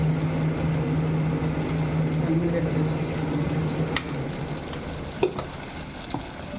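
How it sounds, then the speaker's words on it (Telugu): Tomatoes fry in a pan with a constant loud sizzle. Stirring clatters and knocks come in near the end. "సో టమాటా కొంచెం వేగాలి."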